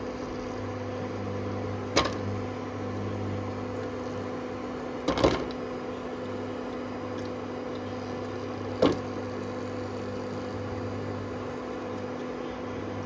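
A microwave oven grilling food hums steadily and evenly throughout, with three sharp clicks or knocks at scattered moments, no voices.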